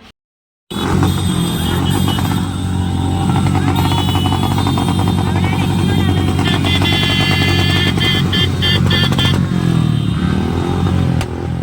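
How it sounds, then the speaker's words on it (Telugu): Motorcycle engines roar loudly and continuously at close range, rumbling and revving as bikes ride along a road together in a political party's bike rally. "రోడ్డు మీద అయితే బైక్ ర్యాలీ జరిగింది."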